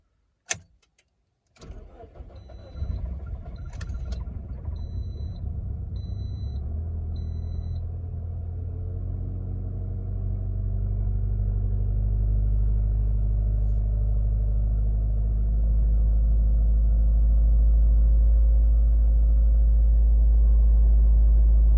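A 2009-2013 Toyota Corolla engine cranks, catches and runs at high RPM while warming up, a steady close rumble that swells louder over about twenty seconds after a few clicks and key jingles at the start.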